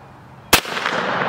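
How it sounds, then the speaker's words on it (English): A 10mm round is fired at a motorcycle helmet lying on the ground. A single loud, sharp report cracks out of quiet outdoor ambience, and a brief ringing tail follows it. "Shoot it again on the ground."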